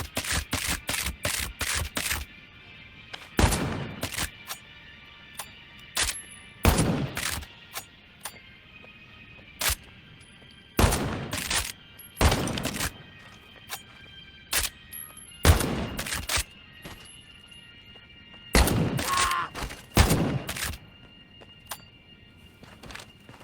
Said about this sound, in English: The Rough Rider is best for mid to long-range combat, and it can be slam-fired by holding it two-handed while keeping the trigger squeezed